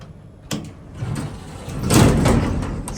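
An A.S.K. traction elevator door in a parking garage grinds roughly as it slides, with a sharp knock near the start and a louder scraping rumble building toward the end, with no voices.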